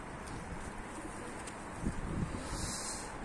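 Pigeons outdoors, with a fantail pigeon flying among the flock, giving faint distant cooing and chirps over a low wind-like hiss and rustle.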